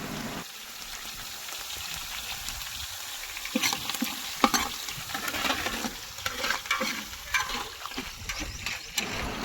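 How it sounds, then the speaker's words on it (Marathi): Onions and green chillies sizzling in hot oil in a pot outdoors on a farm for village-style mutton biryani, a steady crackling fry with occasional stirring scrapes and clinks, close and continuous. "हे बघा तळायला कांदा आपला मस्त पैकी हे टाकल्या मिरच्या"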